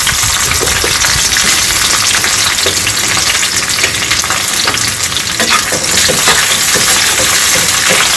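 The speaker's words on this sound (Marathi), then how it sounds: "याच्यामध्ये आपण आता कांदा टाकून घ्यायचा आहे" Onion frying in oil over medium heat for a South Indian red kaara chutney, a loud dense continuous sizzle with occasional stirring clicks, close and alone without talk.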